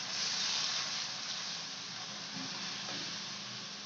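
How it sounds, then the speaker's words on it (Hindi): Onion, ginger and garlic frying in a pan for a chicken dish, giving a steady, bright sizzle that holds evenly throughout with no speech over it. "अब हमने लहसुन डाल दिया है। अब हम इसको अच्छे से भूनेंगे"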